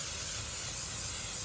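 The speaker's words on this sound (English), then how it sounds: "I'm using pan butter spray." A short, steady hiss of butter-flavored cooking spray from an aerosol can onto a pan, close up and continuous for about a second and a half.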